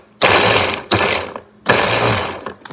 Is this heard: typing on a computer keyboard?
no